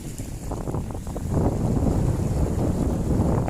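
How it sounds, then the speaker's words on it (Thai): Strong wind at Ang Dok Krai reservoir, Thailand, roars and buffets the microphone, growing louder partway through, with a rushing, water-like wash underneath and no voices. "ลมแรงจัดเลย"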